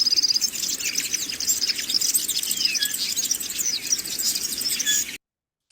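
Swallow song, a quick run of high twittering chirps and warbled trills that keeps going for about five seconds, bright and near, alone without voices.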